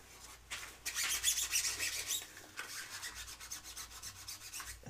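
600-grit sandpaper rubbing dried super glue off a lathe bed, a continuous dry, crunchy rasp in close, steady strokes with a brief pause midway, no voices.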